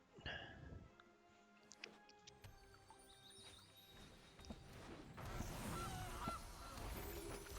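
A goose card in MTG Arena gives a few honking calls, with the loudest near the start, followed by clicky game effects and a swelling noisy blast toward the end.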